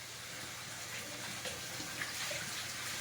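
Tap water runs steadily into a basin or tub, a continuous broadband splashing hiss that holds at an even level close by throughout, with no voices.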